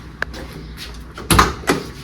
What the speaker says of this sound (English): Why don't you open the door so we can see?